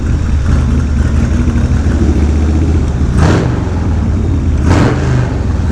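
A 1988 Harley-Davidson FXR motorcycle engine rumbles loudly up close at a steady idle, with two short throttle blips swelling the growl near the end.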